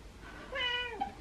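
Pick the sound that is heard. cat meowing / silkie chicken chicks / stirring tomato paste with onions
cat meowing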